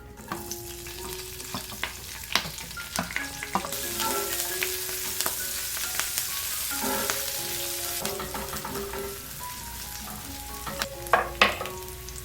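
Mixed vegetables for a stir fry crackle and sizzle in hot oil, with scattered clinks and scrapes of a spoon stirring the pan, at moderate loudness and with no voices.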